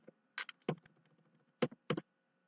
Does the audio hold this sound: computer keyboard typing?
yes